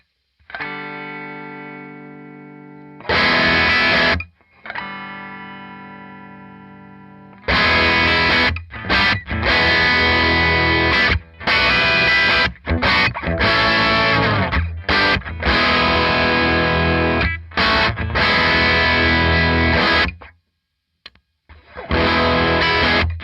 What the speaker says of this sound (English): And now using a guitar with humbuckers.